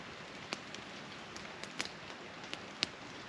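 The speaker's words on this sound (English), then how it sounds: "It's still raining." Rain falls on a woodland camp at night near a campfire, a faint steady hiss broken by scattered sharp drips striking close by, with no voices.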